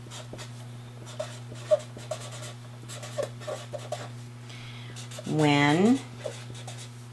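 Pencil writing a number on paper, soft scattered scratching strokes under a low steady electrical hum, with a brief voice near the end.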